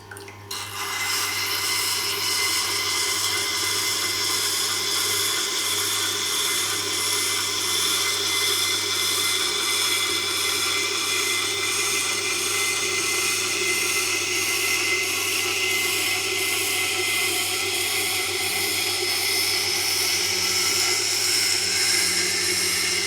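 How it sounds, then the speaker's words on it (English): A Japanese knife being ground on a Tormek CBN wheel gives a steady, loud, continuous grinding rasp with a faint rhythmic pulse, heard alone without pauses. "grind either on CBN wheel grit 160 or grit 400"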